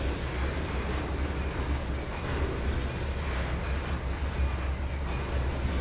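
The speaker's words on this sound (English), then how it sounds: "That train brake is effective." A simulated train in Trainz 2022 slows under braking, giving a continuous low rumble with rolling wheel noise and a faint high squeal, fairly loud and steady with no voices.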